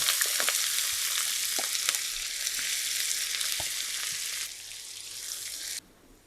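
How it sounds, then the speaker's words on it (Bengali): Sliced onions fry in oil and ghee in a pan as the base for a fish rezala, giving a steady close sizzle with occasional stirring clicks, then quieting and cutting off near the end. "এখানে বেশ কিছুটা পেঁয়াজ দিয়ে দিচ্ছি"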